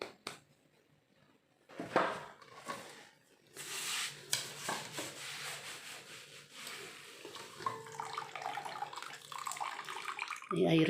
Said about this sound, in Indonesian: Ini airnya jangan dibawa ya, kita tiriskan.